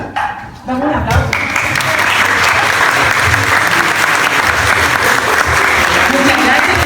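After a brief spoken moment, an audience at a Chilean university research thesis presentation bursts into sustained, loud applause that continues evenly to the end.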